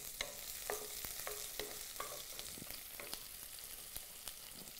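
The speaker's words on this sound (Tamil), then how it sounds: "இப்போ எல்லாம் கடுகு, உளுத்தம்பருப்பு, கடலைப்பருப்பெல்லாம் பொரிஞ்சிருச்சு." Mustard seeds, urad dal and chana dal frying in hot oil on a morning cooking show, a steady close sizzle with scattered sharp pops and crackles, no voices.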